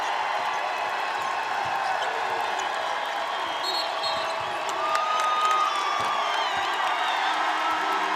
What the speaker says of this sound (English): The crowd going nuts as Lee is mobbed.